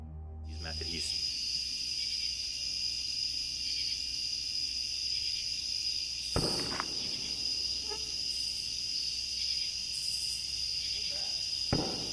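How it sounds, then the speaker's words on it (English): Crickets chirp at a night campsite in a steady, high continuous drone, with a couple of faint knocks and rustles in an otherwise quiet night. "the eerie chirping of crickets fills the dark"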